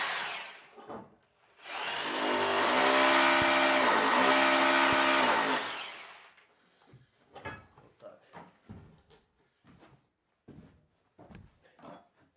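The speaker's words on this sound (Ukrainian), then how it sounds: "Перфоратором просверливать на штирки." A rotary hammer drill bores holes for rebar pins in masonry on a building site, roaring loudly and steadily for about four seconds, then falling silent as scattered knocks and handling noises follow.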